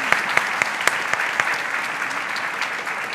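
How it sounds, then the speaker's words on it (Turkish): Studio applause for the mayor of Kırşehir, a steady patter of many hands with a few sharper, louder claps standing out near the start, mostly without speech. "bir alkış gönderelim Kırşehir Belediye Başkanı'na."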